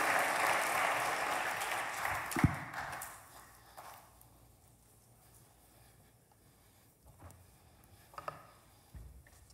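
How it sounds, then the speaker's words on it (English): A crowd applauds loudly for a few seconds, then the clapping thins out and fades, leaving a quiet room with a few faint knocks. "Let's give them a round of applause once again."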